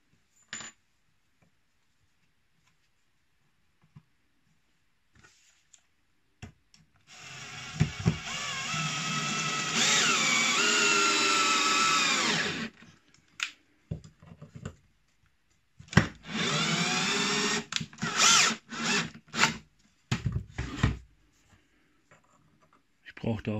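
A power drill drives a 70 mm screw into wood in two long whirring bursts separated by a pause, ending in short stop-start pulses and handling clatter, close and fairly loud.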